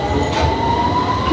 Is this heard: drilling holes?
no